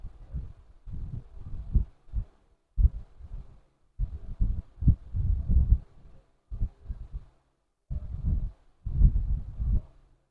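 A sewing machine stitches the front and back pieces of a baby girl's bodice together, running in short stop-start bursts with brief pauses between them, close and fairly loud with no talking.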